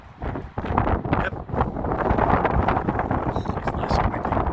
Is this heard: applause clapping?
no